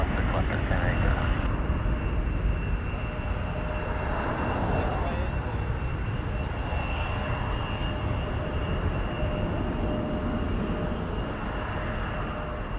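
An Embraer 175 jet at Toronto Pearson Airport produces a steady engine roar in a crosswind, with a thin whine running over the rumble, loud and continuous.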